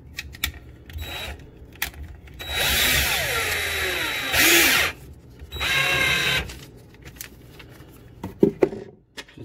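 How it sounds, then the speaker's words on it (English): A power drill bores holes through paper in bursts: three loud whirring runs of a few seconds each, with short pauses and small handling clicks and knocks between them. "just drill them right in the paper."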